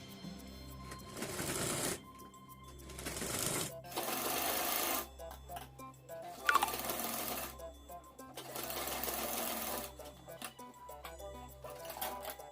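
Sewing machine stitching a blouse in a series of short, steady runs with quick stops between, close and clear, with a faint low hum underneath.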